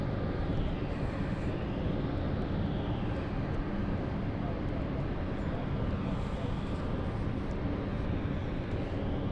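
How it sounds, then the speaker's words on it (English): Fixed-wing airplane at London City Airport, a steady loud engine roar that holds throughout with a faint whine above it, close and continuous. "that's got to be my favourite plane at London City"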